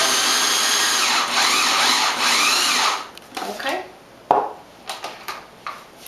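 Kitchen machine finely chopping onions, garlic and herbs whirs loudly and steadily for about three seconds, then stops, leaving scattered knocks and clatter.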